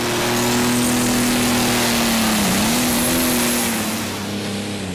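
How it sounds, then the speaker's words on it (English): A loud, steady engine drones close by with a sustained pitch that dips briefly midway, the strained roar of a pro stock tractor under heavy pulling load at a tractor pulling competition. "Now it's the second tractor from Denmark"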